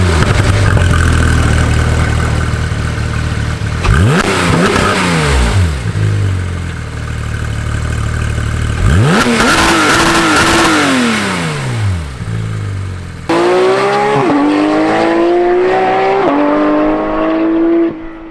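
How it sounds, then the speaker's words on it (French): Porsche 911 GT3 991.2 with a 4-litre naturally aspirated flat-six and sport exhaust, loud and close, rising through several sharp revving sweeps with brief drops between them, the last pulls climbing highest, no talk. "Alors évidemment on a l'indispensable échappement sport."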